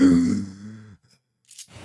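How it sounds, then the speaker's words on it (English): A cat snores nearby with one drawn-out, groaning breath that fades out, followed by silence and a faint brief rustle. "That's my cat snoring."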